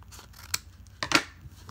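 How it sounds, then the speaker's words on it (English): Scissors cut open a heavy padded mail envelope that holds trading cards, giving two quick close snips with crisp paper crackle between them. "Cut this bad boy open."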